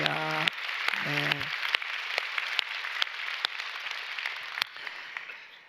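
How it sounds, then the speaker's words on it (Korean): Church congregation clapping to welcome missionaries returning from Venezuela and St. Petersburg, a full room of applause that fades slowly over several seconds after a brief spoken voice and a few sharper claps. "박수로 환영했습니다."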